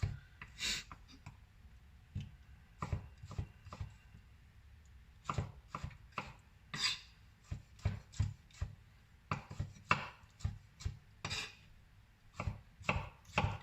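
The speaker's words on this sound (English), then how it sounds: "that can just be diced up roughly" A knife roughly dices vegetables on a cutting board, tomato among them, in a home kitchen; sharp, close chopping taps come in irregular bursts with short pauses between, without any talk.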